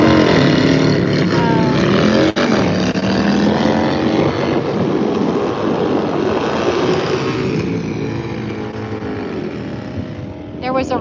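A drag racing motorcycle sits at the starting line at National Trail Raceway, its engine roaring loud and close with a steady, buzzing drone that eases slightly toward the end.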